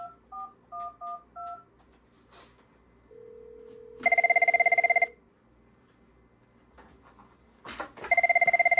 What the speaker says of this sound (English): I can answer the phone and it works just fine.